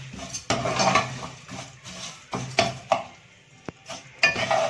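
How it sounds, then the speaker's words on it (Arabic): Vermicelli frying in oil in a pot, stirred with a utensil that clinks and scrapes against the metal at irregular intervals over a soft sizzle, close and moderately loud. "نجيب حبه شعريه كده ونحمرهم."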